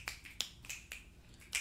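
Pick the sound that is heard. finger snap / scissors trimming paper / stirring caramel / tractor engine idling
finger snap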